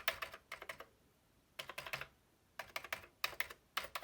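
Clicky keystrokes on a 1982 computer keyboard come in short rapid bursts separated by brief pauses, close up and fairly quiet.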